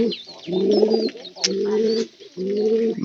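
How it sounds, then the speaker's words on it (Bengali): Pigeons coo in three low, throaty bursts with short pauses between, close by, with faint chirps and a brief higher call in the background. "এই শিবন, শিবন, এদিকে আয়, এটা কবুতর চোহেরা কি হয়েছে?"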